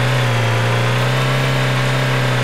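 A steady car engine drones at an even pitch, loud and close, with no voices over it, in the video game DayZ.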